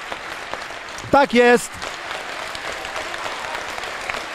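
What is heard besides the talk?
football crowd applauding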